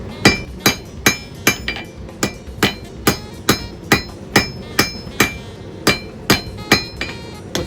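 Steady, evenly spaced hammer blows ring out on metal being drawn to a point over the horn of an anvil, about two strikes per second, close and loud with a bright metallic clang.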